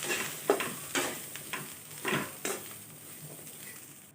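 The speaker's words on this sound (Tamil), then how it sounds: "இப்போ நல்லா வதக்கி விட்டுறலாம்." Cluster beans sauté in a pan with chilli powder and turmeric. A spoon scrapes and stirs in repeated close strokes over a faint sizzle, with no voices.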